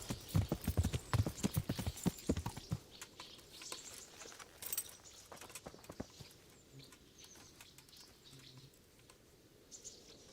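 Rapid hoofbeats of a horse in a video game clip-clop loudly at first, then thin out to scattered quieter steps, with faint birds chirping in the background.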